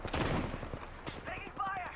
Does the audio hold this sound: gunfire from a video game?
yes